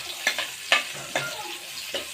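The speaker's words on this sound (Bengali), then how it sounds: "পেঁয়াজ দিয়ে দিলাম।" Onions frying in oil with ginger and garlic in a pan that was just used for frying fish, a steady sizzle punctuated by four sharp spatula scrapes at a slow, even rhythm, close up.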